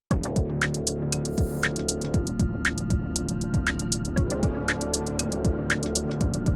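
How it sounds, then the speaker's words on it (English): A synthesizer sequencer pulses in a steady repeating pattern, with bright ticking accents and descending tones looping over a sustained droning bed. "the sequencer is introducing a little bit of pulse and a little bit of movement"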